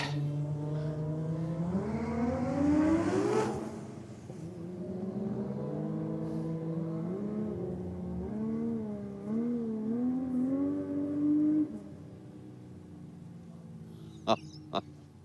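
Cars accelerating in a roll race on a drag strip, including an all-wheel-drive car and a Toyota Supra: engines rev and climb through gears in rising, wavering tones, loud at first then steadier and fading, ending with two sharp clicks.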